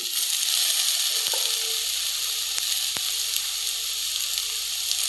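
Tomatoes dropped into onions already frying in a pan for Maggi noodles, setting off a steady loud sizzle with a few brief clatters over the hiss.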